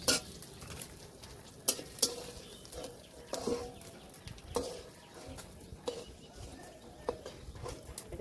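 Whole garlic, fenugreek and cumin fry in oil for a jujube sweet chutney, a constant sizzle broken by irregular sharp spatula scrapes and clinks against the pan, with brief faint voice in the background.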